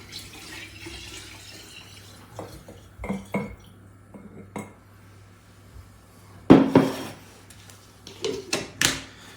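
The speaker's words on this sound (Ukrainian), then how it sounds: "Додаємо спирту воду. Готуємо спиртовий розчин." Water added to alcohol in a container to make a spirit solution for a homemade liqueur, heard as scattered knocks and clinks followed by a louder gush and splashing near the end, with no voices.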